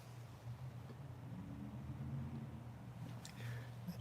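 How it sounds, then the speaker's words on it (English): A large white construction truck's engine rumbles low and steady throughout, a continuous drone with a slight swell near the end, heard at moderate distance without any talking. "You hear that engine sound?"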